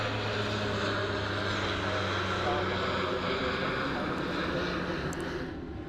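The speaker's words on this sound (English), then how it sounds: "The Q400 now, departing runway 34 right." A Dash 8 Q400 turboprop departing runway 34 right at Sydney Airport, a steady droning propeller and engine hum heard from a distance, holding level throughout and fading slightly at the end.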